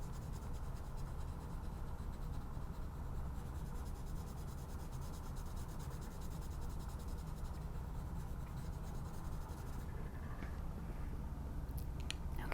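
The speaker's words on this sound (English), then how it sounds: "everyone have their yellow color pencil in their hand. And I'm just gonna color in this section." A yellow colored pencil scratches steadily across paper in close, quiet strokes, a continuous soft rasp with faint sharper ticks toward the end.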